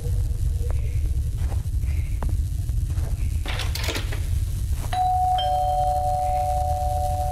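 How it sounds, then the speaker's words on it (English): A doorbell chimes in a horror game, a few soft tones early on and then a clear, sustained ding over a constant low rumble, with no talk. "Ding dong."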